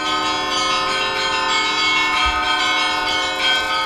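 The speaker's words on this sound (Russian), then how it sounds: "В Архангельске реализована и успешно работает компьютерная система колокольных звонов." Church bells sounded by a computerized bell-ringing system at the Solovetsky metochion in Arkhangelsk ring out loud and sustained, their overlapping tones blending into a continuous, shimmering peal.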